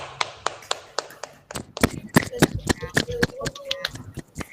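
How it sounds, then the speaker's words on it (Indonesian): A class of students in a school classroom claps hands, beginning with a few sparse separate claps and building into louder, irregular clapping with a voice briefly heard among it. "Mari kita tepuk tangan untuk diri kita sendiri."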